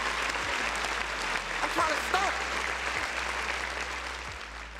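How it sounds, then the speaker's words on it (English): Continuous audience applause for a guest named Persona carries on under a low hum, with a voice speaking briefly over the clapping. "Round of applause for Persona."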